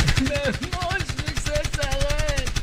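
Rapid machine gun fire laying down sustained suppressive bursts, a dense regular stream of shots under someone speaking continuously over it.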